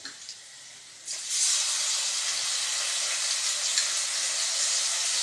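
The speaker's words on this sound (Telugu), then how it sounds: "అల్లం వెల్లుల్లి పేస్ట్ పచ్చి వాసన పోయేదాకా వాటిని వేపుకోవాలి మనం" Ginger-garlic paste frying with onions in a pan, a hiss that starts faint and swells at about one second into a loud, steady sizzle that carries on to the end, with no voices.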